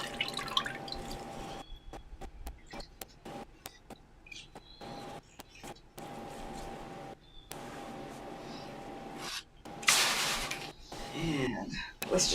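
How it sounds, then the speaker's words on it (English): Water drips and trickles from wet shibori-dyed fabric as it is squeezed out after a soda ash soak. Scattered close drops and splashes land around a fuller burst of running liquid near the end. "Now I'm going to take the one out of the soda ash. It should be thoroughly wet by now. And squeeze out the excess moisture."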